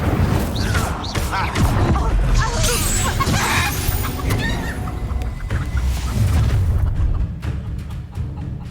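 Incendio fire spell cast in Hogwarts Legacy, a loud booming burst of flame amid combat effects, with voices speaking over the chaotic battle noise.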